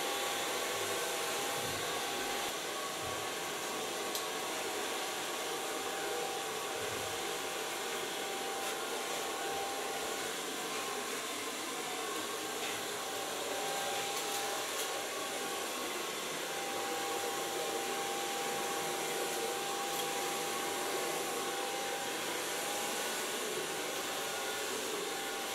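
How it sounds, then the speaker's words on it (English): Hair dryer blowing hair dry in a salon, a loud constant airy roar with a fixed whine, running uninterrupted from start to finish. "So far blow drying."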